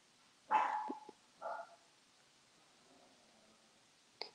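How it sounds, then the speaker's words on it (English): A dog barks outside a house, a couple of short, sharp barks followed by quieter, fainter ones and a final brief yip, heard at some distance against a quiet room. "there may be a lot of dog barking"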